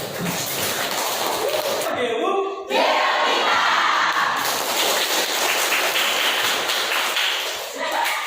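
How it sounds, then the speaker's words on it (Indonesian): Students in a classroom clap their hands together in a dense, noisy burst lasting several seconds, mixed with children's shouting and chatter that rise and fall throughout. "Oke, tepuk tangan."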